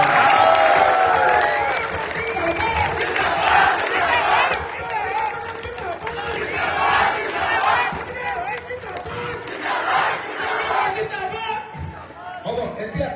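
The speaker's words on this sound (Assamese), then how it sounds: "আপোনালোকে তাকো সকলোৱে হাত তালি বজাই এটা" Crowd clapping at an election rally held by an MLA in Naobaisa, a dense, steady wash of applause and cheering throughout, with amplified speech mixed in.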